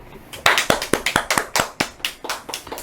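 Several children clap together in a quick, uneven rhythm during a Bible study class, about a dozen close, sharp claps that start loud and taper off.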